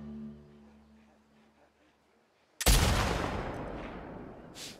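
A single loud rifle shot in The Last of Us Part 2 cracks out after a quiet stretch of low hum and rings into a long decaying echo, with a faint distant report afterward.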